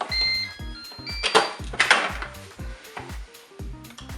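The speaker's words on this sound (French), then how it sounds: "je fais un départ immédiat et je ferme mon couvercle et c'est parti" A Cookeo multicooker's lid is shut and cooking started, giving a series of close, sharp plastic clicks and knocks with short electronic beeps near the start, all without any talking.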